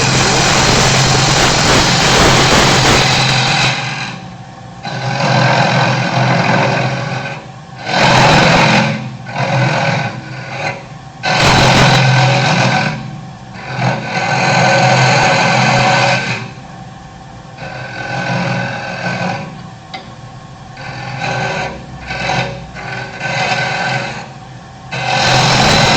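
A carbide scraper cuts waste from a spinning bowl blank on a wood lathe for a lidded box, giving a loud, rough grinding roar that comes in bursts of varying length with short pauses between cuts.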